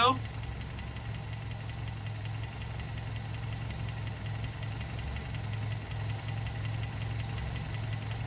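A 1967 Sunbeam Alpine engine idles steadily nearby during a cylinder-by-cylinder misfire check, giving a continuous low rumble with a faint knocking pulse throughout and no talk.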